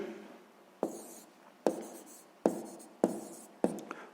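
A pen writes math in a notebook: five short, crisp strokes land at roughly even intervals, each a quick scratch on paper, close and clear with no talking.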